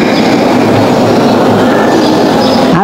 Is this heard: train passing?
yes